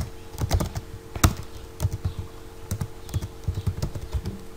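Computer keyboard typing while working out marble tile and white cement quantities: irregular clusters of crisp keystrokes, close and clear, with short pauses between bursts and no talking.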